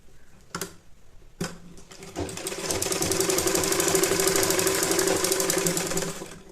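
A sewing machine stitches a twice-folded border on a cotton baby saliva towel, starting after a couple of handling clicks and then running in a fast, even rattling whir for several seconds, close and clear.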